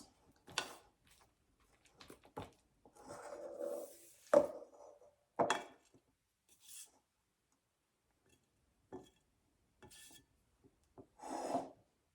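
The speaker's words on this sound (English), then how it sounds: "we're going to scrape down the sides" A spatula scrapes down the sides of a mixing bowl of creamed batter, several short rasping strokes separated by silence, close and fairly quiet, with a few soft knocks.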